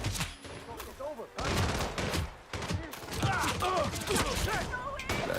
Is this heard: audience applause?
no